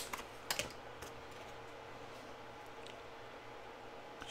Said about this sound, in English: So I'm just going to take my little corner rounder. And I'm going to round these off.